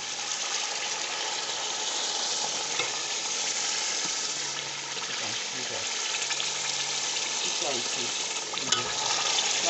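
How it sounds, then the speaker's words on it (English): Palm kernel oil being stirred in a pot over its muddy sediment, a steady soft sizzle and frying hiss with faint scraping stir strokes throughout, fairly quiet and unbroken. "You keep stirring onto the sediment."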